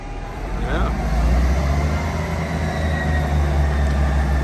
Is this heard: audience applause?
no